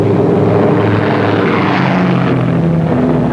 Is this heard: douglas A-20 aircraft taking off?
yes